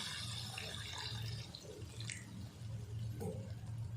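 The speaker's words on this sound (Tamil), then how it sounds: "தேவையான அளவுக்கு தண்ணி சேர்த்துக்கலாம்." Water trickles and splashes into a pan over a low steady hum, with a few brighter drips and pours standing out.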